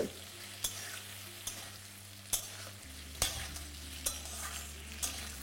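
Potato pieces frying in a pan for a drumstick vegetable curry, a soft steady sizzle under a low hum, broken by sharp stirring scrapes and clacks roughly once a second, close and fairly quiet.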